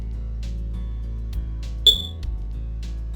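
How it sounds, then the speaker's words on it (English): A fire alarm in a Touhou-style fan game set in the Scarlet Devil Mansion library gives one sharp, high electronic beep partway through, standing out over a steady low game background. "Shut up, fire alarm."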